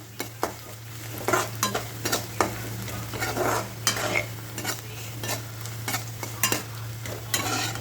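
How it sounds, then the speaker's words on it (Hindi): Onions fry in a pan until lightly browned, a soft continuous sizzle broken by repeated sharp scraping and clinking strokes of a spoon stirring, with a low steady hum in the background. "इस तरह से ये थोड़ा हल्का सा मतलब ब्राउन हो जाए, प्याज आपका भुन जाए सारी चीज़ें"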